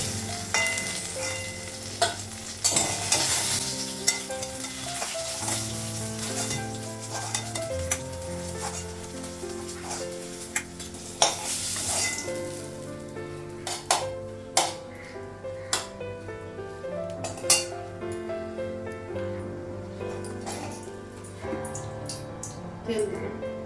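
Brinjal sizzles as it fries in a pan, with repeated scraping and clinks of a spatula stirring against the metal and occasional louder knocks, close up throughout.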